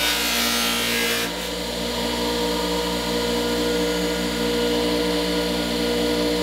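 Adze edge being sharpened on a grinder, a loud steady abrasive whine with a harsh hissing grind that eases after a second, continuous and close.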